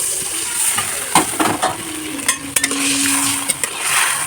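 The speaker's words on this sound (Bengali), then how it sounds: "সেই কেটে রাখা একটা টমেটো আমি দিয়ে দিলাম" Chopped tomato tips into a pan of sizzling egg and soybean curry masala, giving a steady close fry hiss with a few stirring scrapes and clinks.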